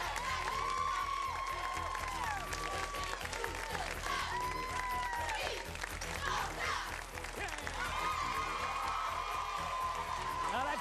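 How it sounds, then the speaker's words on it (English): A studio audience at a high school quiz show claps and cheers loudly and continuously, with whoops mixed into the steady applause, while an announcer's voice runs over the crowd. "Now that's cheering with enthusiasm."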